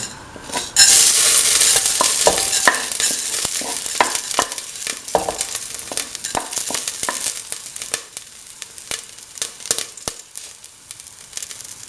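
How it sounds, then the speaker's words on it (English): Fenugreek seeds fry in hot oil in a pan with a loud, steady sizzle, and bright crackles and pops burst through it one after another. A short quiet moment comes first, then the frying carries on alone with no voices. "Spread the oil in the pan. Put in the fenugreek seeds."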